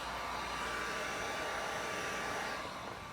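Heat gun blowing steadily and loudly while warming carbon fiber vinyl wrap on a 2015+ Dodge Challenger taillight, a continuous airy roar that holds level throughout and eases slightly at the end.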